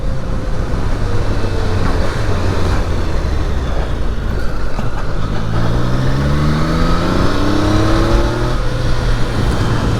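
A Triumph Daytona 660 motorcycle revs while being ridden, its engine note climbing through rising pitch sweeps over a constant rumble, loud and close with wind noise.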